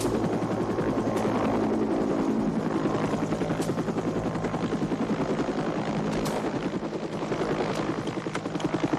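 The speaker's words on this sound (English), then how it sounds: "Be advised, resupply helo is inbound at this time." A resupply helicopter arriving in a Vietnam War combat film, its rotor thumping in a steady, loud, rhythmic beat that continues throughout over an engine drone.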